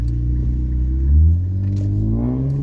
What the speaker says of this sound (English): my exhaust is fully open too, so it's not as raspy anymore